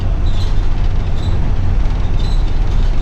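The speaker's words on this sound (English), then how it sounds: "I bet it's the cage around the heater." The wire cage around a bus heater rattles loudly and continuously, a dense, steady buzzing clatter that blends with the roar of the moving bus, with no voices.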